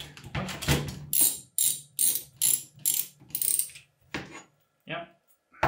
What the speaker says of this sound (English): And then we get to ratchet.